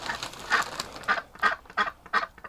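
Ducks give a run of six or seven honking quacks in an uneven rhythm, close by and fairly faint, with no other sounds around them.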